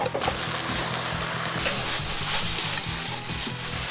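Chopped green onions stir-fry in hot oil in a wok for a galbi jjamppong, giving a loud, continuous sizzle and crackle with scraping, tossing motions throughout.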